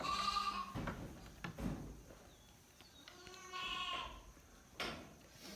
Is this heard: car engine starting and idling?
no